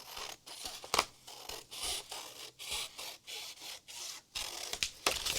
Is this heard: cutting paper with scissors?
yes